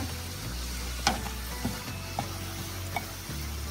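Garlic sizzling in a frying pan, a steady crackling hiss with a few sharper pops and stirring clatters, close and continuous with no talking.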